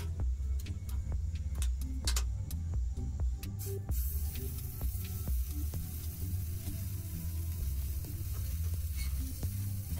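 Chicken pieces frying in oil on an aluminium plate give a steady, close sizzle with scattered sharp pops and crackles throughout, without talking.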